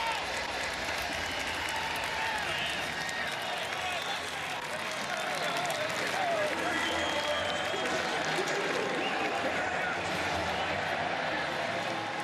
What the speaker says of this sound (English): Bill Snyder Family Stadium crowd loving this response, loving the drive.